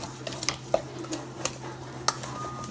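A spoon stirs seasoned chicken and pasta in a bowl, with soft, scattered clinks and scrapes against the dish and a faint squish. It is quiet and close, with no talking.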